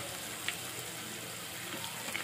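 Butter sizzling in a pan as a tadka for chana dal, a steady, faint frying hiss running throughout with a few small pops.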